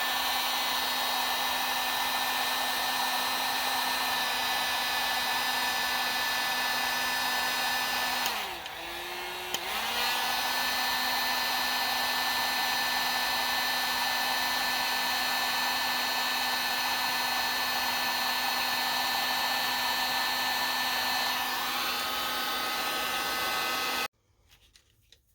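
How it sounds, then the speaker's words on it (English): A heat gun runs steadily for over twenty seconds with a loud, even blowing whir and a constant motor hum, dipping briefly once partway through, then cuts off abruptly near the end; no one speaks. "So I got my heat gun, and this is going to be noisy"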